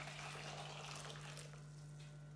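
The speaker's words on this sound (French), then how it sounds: "Une fois que l'eau est bien chaude, on la verse dans le saladier." Hot water for homemade laundry detergent is poured into a salad bowl, a faint continuous splashing flow under a steady low hum, brief and with no talk.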